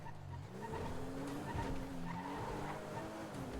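A car in a Paris roleplay video game drives with a steady engine drone and skids with loud tire squeals, continuous throughout with no talk.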